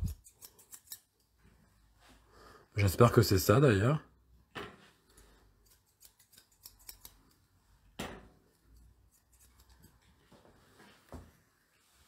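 Quick snipping of scissors cutting an American Cocker Spaniel's head hair, a dense burst of cuts in the middle and scattered single snips, with a person speaking quietly between them.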